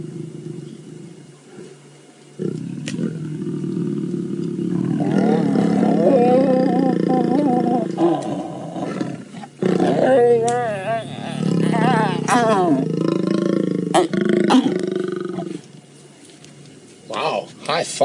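Lions of the Nkuhuma Pride mating on a safari drive, with deep, drawn-out roars and growls rising and falling over several seconds at close range, with a vehicle's low hum beneath.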